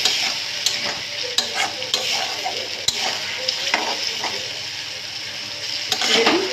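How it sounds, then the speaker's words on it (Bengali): Potatoes frying in oil in a pan, stirred vigorously for an egg and potato curry: a strong constant sizzle broken by repeated clattering scrapes and knocks of the spatula, up close with no talking. "আলুগুলো দিয়ে কিন্তু আমি নাড়াচাড়া করে নেবো ভালো করে।"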